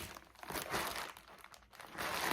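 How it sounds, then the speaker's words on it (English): Parcel packaging being handled while a birthday gift is unwrapped, close, irregular crinkling and rustling bursts that swell and fade over a couple of seconds, with no voices. "excuse the rustling"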